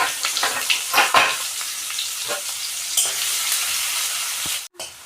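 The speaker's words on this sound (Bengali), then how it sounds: "জিরে দিয়ে আমি পেঁয়াজগুলোকে সুন্দর করে ভেজে নেব।" Onions fry with cumin in a hot pan, sizzling loudly and steadily, with a few sharp scrapes and clatters as they are stirred.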